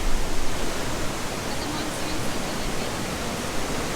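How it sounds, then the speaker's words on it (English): Rough, swollen waterfall on Koh Kood island, Thailand, roaring as a dense, steady broadband rush of pounding water, loud and close, with no break across the whole stretch. "So we made it to the waterfall, but It's very noisy."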